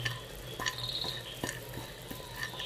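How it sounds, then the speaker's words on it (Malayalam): Rice masala is stirred in a pan with fried cashews, chopped mint and coriander. Faint, repeated scraping strokes of the spoon sound over a soft background hiss. "ഇതിൻ്റെ കൂടെ ഞാൻ കട്ട് ചെയ്ത് വെച്ച ഒരു 2 ടീസ്പൂൺ പൊതിനയും 2 ടേബിൾ സ്പൂൺ മല്ലിയിലയും ഇത് മൊത്തത്തിൽ ഒന്ന് നന്നായിട്ട് മിക്സ് ചെയ്യുക"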